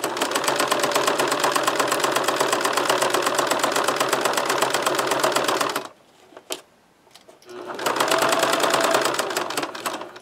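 A sewing machine stitches a fabric pencil bag in a rapid, even mechanical clatter, runs for about six seconds, pauses briefly with a few small clicks, then starts stitching again near the mic.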